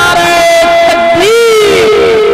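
A crowd at a religious conference shouts a chant in loud unison, a sustained roar of many voices with a rising and falling cry, close and dense.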